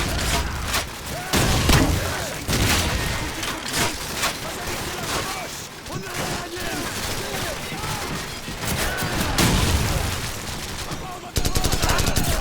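Dense battle din from Call of Duty 4 Modern Warfare, where sustained gunfire and booming blasts, a frag grenade explosion among them, run continuously at high loudness under occasional voices.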